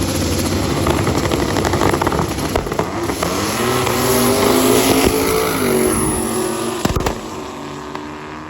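A twin-turbocharged big-block engine in a drag racing truck roars continuously for several seconds, loud and rumbling with shifting pitch, revving nearby.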